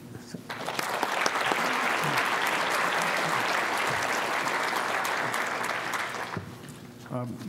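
A seated audience at a panel discussion on the Arab Spring bursts into sustained applause, full and close for several seconds before tapering off, with a speaker's voice heard briefly before and after.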